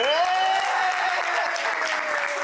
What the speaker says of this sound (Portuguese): Ao terminar, ela foi aplaudida.